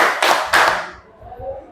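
A school class claps in a counted group chant: a couple of sharp, loud ensemble claps in quick succession, then fading into quiet murmuring.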